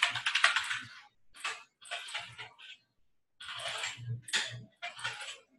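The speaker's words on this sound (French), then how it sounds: "Je les tape le mail." An email address typed on a computer keyboard: bursts of quick, close key clicks with a brief pause midway, and no speech.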